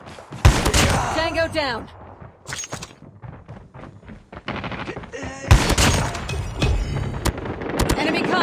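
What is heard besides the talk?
shotgun shots in Call of Duty Mobile video game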